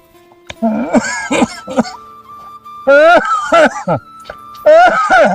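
Groups of harsh, rapid coughs come in three clusters, loud and close, with short silent gaps between them.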